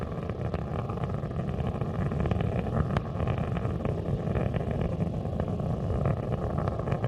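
Roaring main engines of Space Shuttle Atlantis on mission STS-104 climbing through launch while throttling back, a steady, dense, rumbling roar with no letup and no voices.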